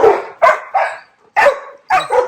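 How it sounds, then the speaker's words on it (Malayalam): A dog barks nearby, five loud yapping barks in quick uneven bursts with short silent gaps between them and no talking. "ഏതോ പട്ടിയാന്ന് തോന്നുന്നു"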